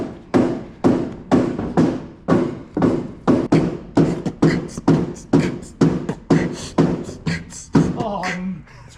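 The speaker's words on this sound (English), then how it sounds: "hammer that wood transom over a couple inches there toward that side" Hammer striking a wooden transom during a junkyard boat restoration in a shop, about fifteen heavy, evenly spaced thuds in a steady rhythm, loud and close, ending with a brief rattle.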